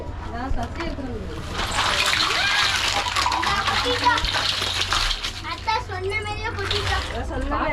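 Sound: child splashing water

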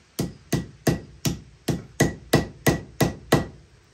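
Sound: hammering rivets into a leather sheath

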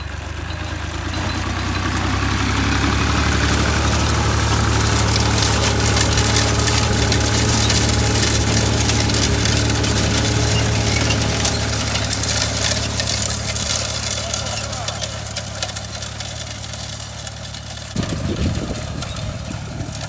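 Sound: tractor engine pulling an SZ-1.8 seed drill

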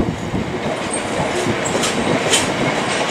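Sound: Class 66 freight locomotive train passing Redhill

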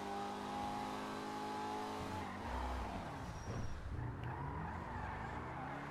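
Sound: car engine driving fast in GTA 5 video game

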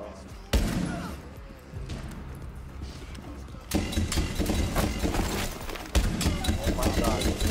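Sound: gunshots in a shooter video game

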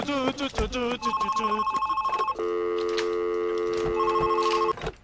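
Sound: phone ringing in the video game Monaco

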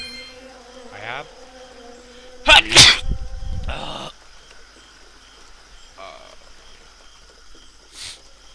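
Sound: sneeze

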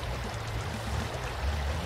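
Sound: Pajero driving into river in video game BeamNG Drive

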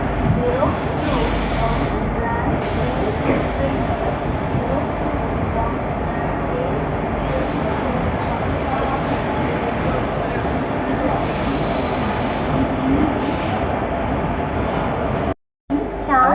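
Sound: electric locomotive express train at station

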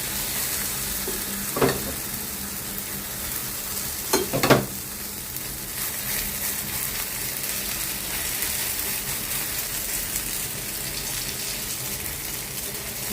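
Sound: frying flat dough cake in ghee or oil

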